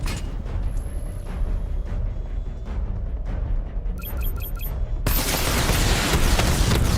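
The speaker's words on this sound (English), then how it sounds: "Charge up missile barrage to level 2 and destroy 4 active targets to complete diagnostic test" The Batmobile unleashes a missile barrage in Batman Arkham Knight, with a rapid cluster of launch bursts followed by a loud, sustained roaring rush of blasts amid the game's constant background rumble.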